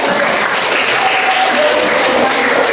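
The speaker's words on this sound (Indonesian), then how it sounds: "Iya, bagus, tepuk tangan dulu." Classroom applause during a religious education lesson, a steady dense wash of many hands clapping together, loud and continuous from start to finish with no break.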